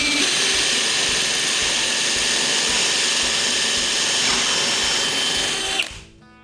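Power drill boring a hinge cup hole through a clamped hinge jig, a loud close steady whine held for about six seconds before spinning down and stopping.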